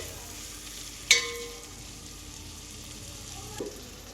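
Tomato pieces cook in a pan for gongura chicken, giving a soft, even sizzle with one sharp metallic clink early on and a faint knock near the end.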